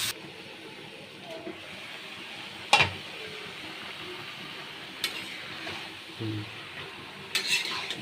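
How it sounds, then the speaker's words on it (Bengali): Bottle gourd and prawns being stirred in a pan, with soft scraping and shuffling across a quiet background and a few sharper clinks of the utensil against the pan. "ভালো করে নেড়ে চেড়ে ওটা সেদ্ধ করতে হবে"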